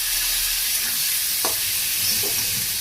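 Rice frying in a pan gives a steady, close sizzle, with a couple of soft stirring scrapes and no voices.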